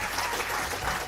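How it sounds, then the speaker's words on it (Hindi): Brief burst of audience applause for tribal and forest-dwelling children performing at an event in Delhi, a dense, steady clapping wash filling the whole moment. "एक बार तालियों से इन बच्चों का हम उत्साह"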